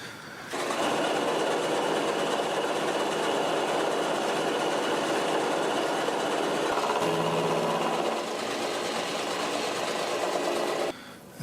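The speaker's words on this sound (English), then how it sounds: "going to do a 2mm depth of cut on 6 faces to start with" Milling cut on the faces of a hex bolt head held in a collet chuck: a steady, loud machine whir with a grinding, rattling cutting noise that runs continuously for about ten seconds, then spins down.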